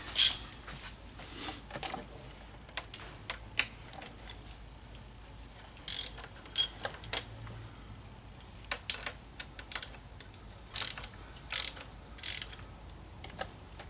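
A ratchet wrench on an extension loosens bolts on a 2007 Mini Cooper S R56 engine during cylinder head removal, giving short bursts of quiet clicking separated by pauses.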